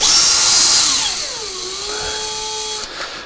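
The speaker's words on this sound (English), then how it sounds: "Get the screws so they're just protruding a bit, and that allows you to locate this properly" Power drill driving screws into a wooden drawer, a loud close whine that winds down in pitch as the screw seats, then a brief lighter burst.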